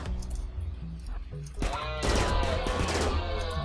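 Gunfire as colonists shoot in the RimWorld video game: a burst of rapid cracking shots starts partway in and keeps going densely to the end, with a voice talking before it.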